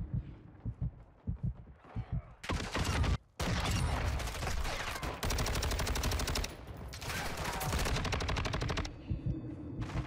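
Call of Duty Modern Warfare 2 Gun Game match: loud rapid machine-gun bursts and gunshots, nearly continuous after a quieter start, with a brief gap partway through.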